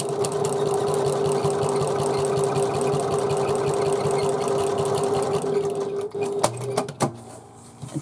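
Close, steady whirring of a sewing machine top stitching a handbag seam with fast regular needle beats, ending in a few sharp clicks and handling noises as the stitching stops.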